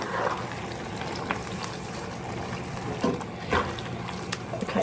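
Creole chicken with Italian seasoning, salt and pepper simmers in a pan, giving a steady close bubbling hiss with scattered soft pops and ticks, with no voices.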